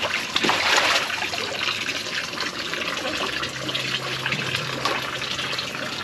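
Steady broadband splashing and trickling water runs throughout at a hot spring bathing spot, fairly close, with a louder gush near the start and no clear talk.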